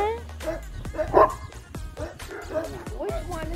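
Puppies bark, yip and whimper up close in a busy burst while people talk over them.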